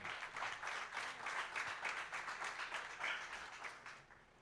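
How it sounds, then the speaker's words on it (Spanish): A church congregation claps and applauds for the Lord, a steady dense burst of clapping for several seconds that fades at the end. "Dele un aplauso al Señor."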